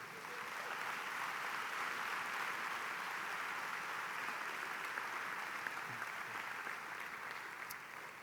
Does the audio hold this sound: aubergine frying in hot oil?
no